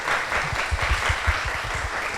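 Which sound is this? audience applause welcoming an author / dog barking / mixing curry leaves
audience applause welcoming an author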